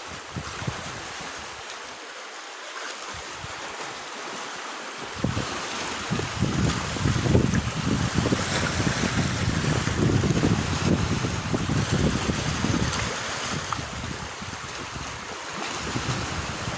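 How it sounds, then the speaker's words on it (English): Strong wind buffets the microphone with a loud, continuous roar that swells and gusts, with no voices. "because it's quite windy today, I sort of need a sort of barrier here"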